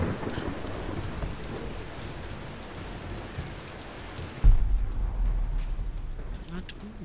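Heavy rain pours in the Tomb Raider game during a thunderstorm, then a sudden loud thunder crack from a lightning strike hits and rolls on under the continuing downpour.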